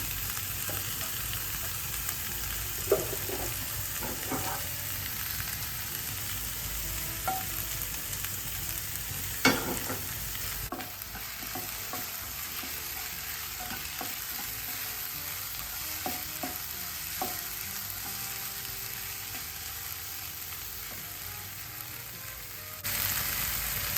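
Oil sizzles and fries in a pan on a stove, a steady soft crackle with occasional small pops and clinks, continuing without talking.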